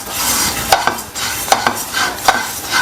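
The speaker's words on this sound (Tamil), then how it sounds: "கருப்பு எள்ளு எடுத்து நான் வறுத்து உள்ள பூரணம் ரெடி பண்ணிக்க போகிறேன்." Black sesame seeds roasting dry in a pan for sweet kozhukattai filling, heard as a soft continuous rustling hiss broken by several light scraping stirs of a spoon against the pan, close by with no voices.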